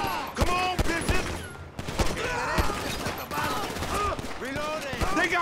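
Rapid gunfire in GTA 5, a dense fusillade of overlapping shots crackling continuously and close, with voices shouting over the shooting.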